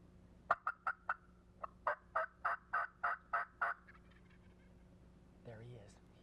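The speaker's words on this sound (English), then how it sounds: "this gobbler's up here on top of this pasture with a bunch of hens somewhere" A wild spring turkey gobbler on a pasture hilltop gobbles in a loud rapid burst of about ten throaty rattling notes, with a faint softer call trailing afterward.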